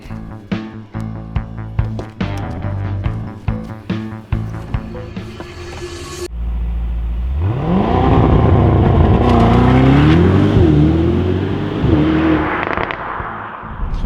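A Mercedes-AMG GT 63 V8 barks through a string of sharp exhaust pops and blips, then surges into a long, loud rising rev that climbs and wavers before falling, heard close and alone.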